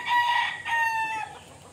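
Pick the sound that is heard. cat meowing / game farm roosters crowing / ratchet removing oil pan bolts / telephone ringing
game farm roosters crowing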